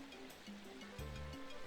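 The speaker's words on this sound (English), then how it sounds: "I hear flowing water." Flowing water ambience from a town area in the RPG Maker game Yggdrasil Chronicles, a steady stream-like wash running continuously beneath low game music tones, with no talk.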